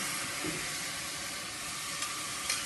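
Spoonfuls of stock hit a hot pan of rice, producing a soft, even sizzle and hiss with a few faint clinks.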